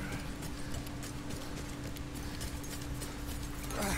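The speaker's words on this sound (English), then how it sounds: "Oh, that's a horse." Horse hooves clip-clop steadily through the whole stretch in the World War I shooter Battlefield 1, close and fairly loud over a constant wash of in-game ambience that swells slightly at the end.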